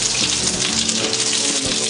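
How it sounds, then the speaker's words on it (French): Coconut-breaded mahi mahi fish frying in a very hot pan, a dense, even sizzle and crackle running loud and close throughout with no talk. "on a notre poisson qui est pané au coco. Ok, donc pour la cuisson, une poêle bien chaude."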